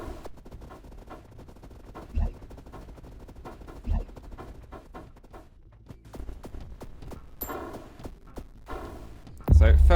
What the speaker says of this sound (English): These ones are my machine gun towers